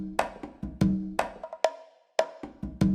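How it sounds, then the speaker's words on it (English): Bongo fill from a percussion loop: a handful of sharp, bright hand-drum hits with short resonant tones, played in an uneven answering pattern with brief gaps, close and clear with no talking. "First one, if you take a listen to bongos."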